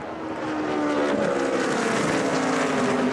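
NASCAR stock cars roaring past at the Brickyard 400 on the final lap, a loud sustained engine drone that swells in the first second and holds steady with a shifting pitch as the cars pass.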